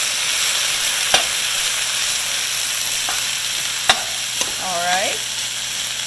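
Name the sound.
frozen vegetables frying in hot wok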